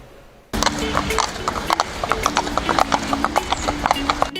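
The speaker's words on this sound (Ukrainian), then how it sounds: "У столиці відновили роботу кінні патрулі." Hooves of police patrol horses on Trukhaniv Island in Kyiv, a rapid, uneven clip-clop of several horses that starts abruptly and keeps going close and clear, with no talk.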